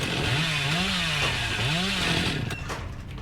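A chainsaw in the Dead by Daylight video game revs continuously and loudly, its engine pitch rising and falling in two surging waves over a noisy background.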